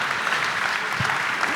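Audience at a panel discussion on Digital India applauding the guest speakers, a dense, steady wash of many hands clapping throughout, fairly close and even in level.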